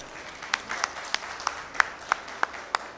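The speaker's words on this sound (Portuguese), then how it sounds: "uma salva de palmas para o Vítor" A small audience at a showcooking event at an agricultural fair claps for a volunteer, giving a sparse, brief round of separate hand claps at a moderate distance.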